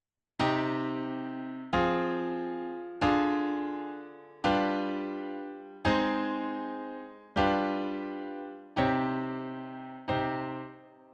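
Eight struck piano chords, each ringing and fading before the next, moving through a progression that settles onto a resolving final chord.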